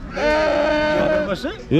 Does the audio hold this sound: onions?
no